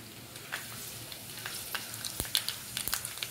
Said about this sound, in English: Can you hear the spluttering?